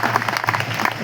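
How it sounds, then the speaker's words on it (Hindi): A short burst of crowd applause, clapping that is close and fairly loud, with a busy, uneven texture throughout the brief moment. "बहुत जोरदार तालियां देखे।"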